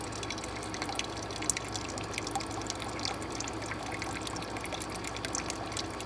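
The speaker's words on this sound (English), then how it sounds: "This is the exit water." Exit water flows steadily out of a bubble hash machine, a constant, close trickling and splashing wash with faint drips and no pauses.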